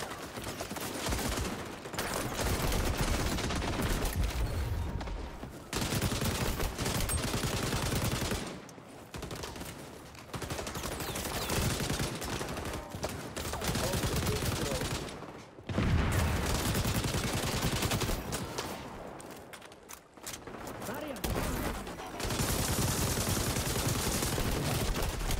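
Light machine guns such as the M60 and RPK firing in the shooter game XDefiant, long dense bursts of rapid gunfire in several stretches with short gaps, loud and close.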